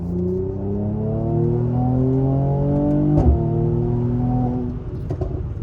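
Mercedes-AMG C43 W205 accelerating hard at night, a loud close engine note climbing steadily through the revs, then a sharp crackle of exhaust pops as it lifts off, with no talking.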